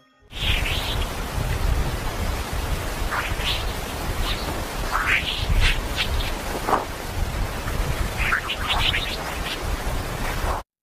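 Sonified space recording of dispersive waves from solar storms: a constant hissing, rain-like wash with scattered rising and falling whistling chirps sweeping across it, steady and loud throughout with no voices.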